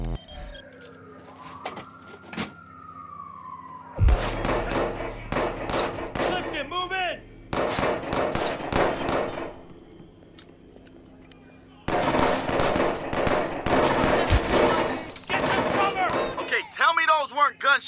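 Gunfire in Watch Dogs 2, rapid bursts of shots in two long stretches, loud and close, mixed with sirens and a descending whistle at the start, with voices talking between bursts.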